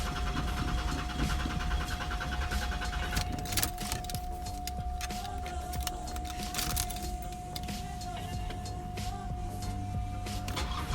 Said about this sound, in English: I can hear the fuel pump kicking in